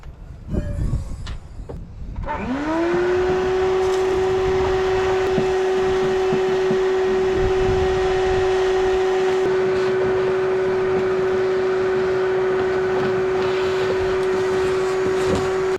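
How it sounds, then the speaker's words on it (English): A shop vac vacuums the trunk of a Nissan 300ZX. After a couple of knocks, the motor spins up to a high, steady whine and runs without a break, its airflow roaring loudly underneath. "Now let's go hook up our shop vac."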